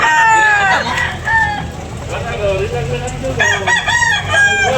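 A two-year-old rooster offered for sale crows loudly and close by, one long call at the start and another near the end, with clucks and murmured talk in between.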